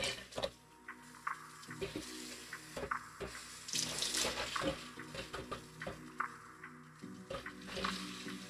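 Water runs from a kitchen tap while cooking broccoli and cheddar soup. The splashing flow is close and continuous, with uneven surges and small clanks throughout and no talking.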